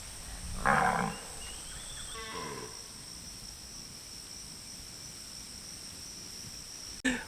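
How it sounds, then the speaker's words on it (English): A herd of cows in a field across from a parked converted Sprinter van in rural Australia, with one or two low moos early on, then quiet outdoor ambience with steady insect chirring and no talk. "just across from where we're parked are a whole bunch of cows"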